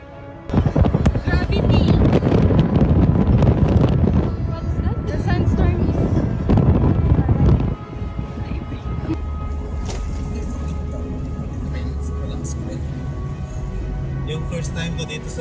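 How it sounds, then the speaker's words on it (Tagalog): Strong sandstorm wind roars and buffets the microphone in Saudi Arabia, a loud continuous rushing gust that eases into a steadier lower blow about halfway through. "Grabe nga sandstorm sa Hukup sa Saudi Arabia."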